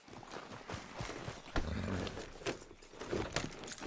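Horse hooves clop at a steady walking pace, close by, with jangling tack and faint rustling around them; no speech.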